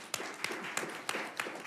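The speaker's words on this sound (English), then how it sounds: "You can clap for her as well" A small audience at a school board of education meeting gives a few scattered, quiet claps for a newly announced assistant superintendent, the sharp hand strikes spaced apart in a hushed room.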